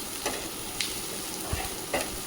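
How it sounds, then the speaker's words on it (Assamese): Spices fry in a pan with a little added water while small potatoes and sesame are cooked, a soft continuous sizzle broken by a few light stirring scrapes. "এইখিনি ভালদৰে ভাজি ল'ম। মই অলপ ইয়াত পানী এড কৰিছোঁ যাতে মছলাখিনি জ্বলি নাযায়।"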